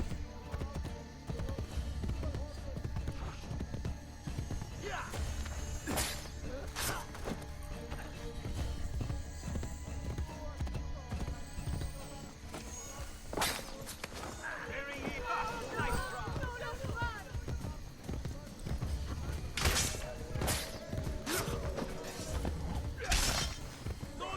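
Galloping horse hooves from the Assassin's Creed Brotherhood video game, a steady clip-clop running through the whole stretch alongside game sounds and occasional sharp impacts, with a voice talking over it at times.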